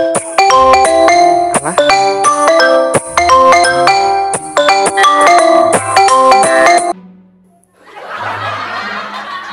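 A phone ringtone plays loudly as a melodic electronic tune for about seven seconds, then cuts off, followed by laughter.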